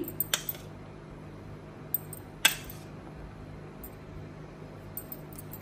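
Gram flour batter with salt, garlic, onion, turmeric and cumin is mixed in a bowl, with a few faint clinks and taps of utensil against the bowl over a quiet room hum.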